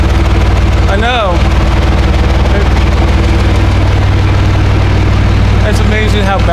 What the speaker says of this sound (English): It's a pretty good sounding tractor.